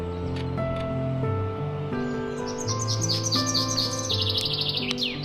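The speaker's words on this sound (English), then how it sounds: "it seems to be some duckies with a mom with some chicks" Birds chirping in tall grass beside a road, with small ducklings and their mother duck, a rapid series of high, thin peeps and tweets, close and fairly clear, with no talking.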